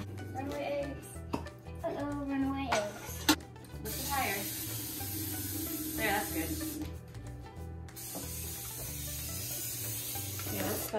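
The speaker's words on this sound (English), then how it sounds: "let's spray the pans" Cooking spray hisses in short bursts onto baking pans in a home kitchen, set against steady background noise while a child and an adult talk.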